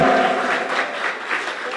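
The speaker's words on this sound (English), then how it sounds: "Give him a round of applause." An audience gives a round of applause at an essay competition prize-giving ceremony. The clapping is fairly loud and continuous, swells and eases slightly over its short length, and has almost no talk over it.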